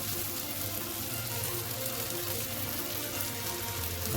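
Chilli, turmeric and garam masala powders fry in hot oil for a chickpea curry, giving a steady, dense sizzle that holds without break, close and fairly loud, with no voices over it.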